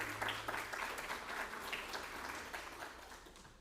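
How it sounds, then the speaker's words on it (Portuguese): Audience applause after a musical opening at a memorial event, a sustained round of clapping from a seated crowd, fairly steady and moderately loud, with no voices over it. "Luciano Nazar e Alvarenga, para quem pedimos aplausos pela qualidade do trabalho"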